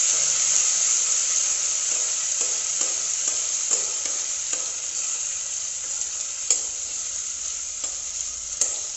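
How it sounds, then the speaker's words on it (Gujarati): Green peas and cashews sauté in a hot pan for a peas pulao, giving a steady close sizzle with frequent light stirring scrapes and taps throughout. No voices. "થોડી વાર સાંતળી લઈએ।"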